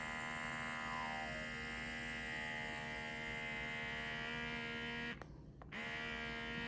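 An Achedaway cupping therapy massager runs its suction motor with a steady electric hum and buzz, close and constant, briefly cutting out for about half a second before resuming.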